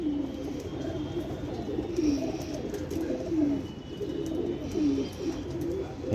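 A flock of pigeons on a rooftop coos in a regular rhythm, each soft gurgling call recurring every second or so under faint background noise.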